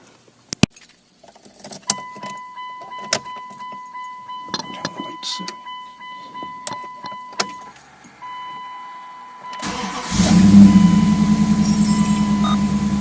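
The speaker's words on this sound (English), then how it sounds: "Well, it's running on all cylinders, the sound of it." A Dodge Durango fresh from an ignition tune-up with new plug and coil wires: key jangling and clicks come first, then the engine cranks, catches and settles into a steady, loud idle.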